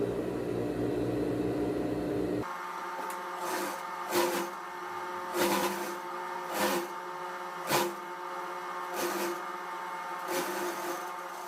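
A sewing machine runs a straight seam on the sleeves of a women's tailored blazer, a steady mechanical whir with a regular pulsing rhythm, close and moderately loud after a brief lower noise at the start, with no talking.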